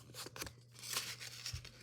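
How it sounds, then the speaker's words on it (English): Metallic foil origami paper is folded in half, giving crisp crinkling and crunching rustles at close range, quiet over a steady low hum. "So I'm gonna fold the paper in half"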